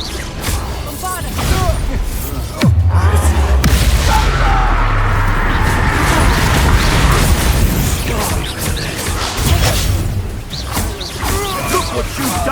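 Bombarda explosion spell cast in the video game Hogwarts Legacy, a heavy booming blast with a low rumbling tail amid battle effects, loud and close, with a voice shouting nearby.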